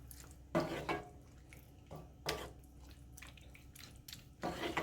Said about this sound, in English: So I'm just going to stir that in